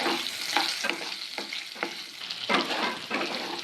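Cut potatoes fry in hot oil with a steady close sizzle and broadband crackle, broken by repeated stirring scrapes spaced through the few seconds, with no talking.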